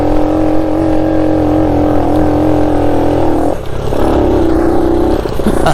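A 1969 Honda Trail CT90 motorcycle engine labors steadily uphill, its droning note held close and loud, then dips briefly as it shifts gears before settling into a new pitch.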